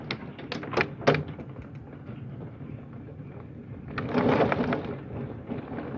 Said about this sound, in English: that's actually hail